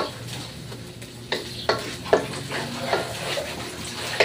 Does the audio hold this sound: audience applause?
no